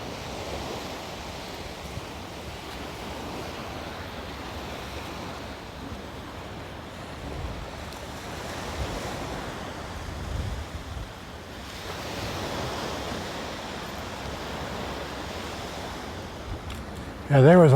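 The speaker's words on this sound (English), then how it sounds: "You can see the tide coming in here now." Surf from an incoming tide washes steadily onto a rocky shore, a continuous broadband roar with gentle swells, wind buffeting the microphone and a brief louder burst at the very end.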